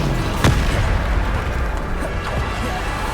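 Spell explosions in Hogwarts Legacy combat: a sharp boom near the start followed by fainter blasts and pops over a dense background of game sound, loud and close.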